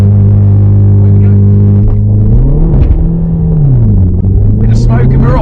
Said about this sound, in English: The Megane RS actually has launch control, so what you do is left foot on the brake, pull the paddles back, right foot on the accelerator. Away we go.